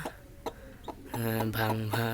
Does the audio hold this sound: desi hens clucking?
yes